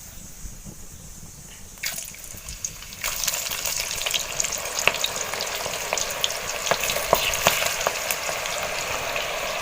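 Thin-cut raw jackfruit chips dropped into hot oil. A quiet start gives way to a rising, bubbling sizzle with crackling pops that stays loud and steady to the end.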